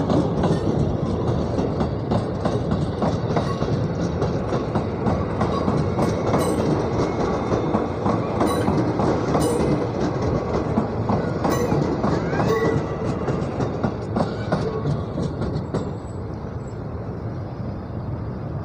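A KRL electric commuter train in Indonesia's Daop 1 region rumbles past continuously and loudly, wheels clattering rhythmically over the rails, with the noise easing slightly toward the end.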